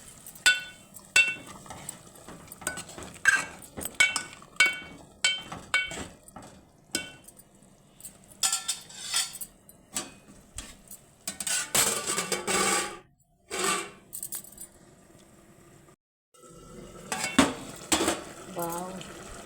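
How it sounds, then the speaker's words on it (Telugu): A vegetable curry of brinjal, ivy gourd, tomato, onion and chilli is stirred in a pot, with repeated clinks and scrapes of a spoon against metal and irregular bursts of louder stirring, close by and without talk. "ఇప్పుడు ఒకసారి కలుపుదాం."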